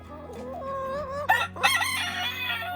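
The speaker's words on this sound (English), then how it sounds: "here we have the derelict chickens, the white chicken and the black chicken." Backyard chickens, a white hen and a black hen kept in a small recovery coop, cluck and call close by, then a rooster crows loudly twice in quick bursts over the continuing clucking.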